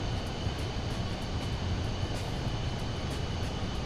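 PC-24 business jet engine in Microsoft Flight Simulator 2024, a steady, loud broadband roar and whine that holds constant throughout with no voices.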